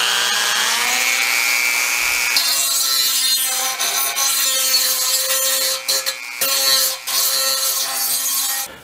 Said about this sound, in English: to clean those up, I'm going to use a rotary tool